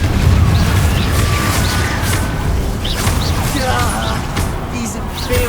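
Blasting spells go off in the Hogwarts Legacy video game, booming bursts and crackling impacts piling up amid loud combat noise, while a voice shouts a spell name over the chaos.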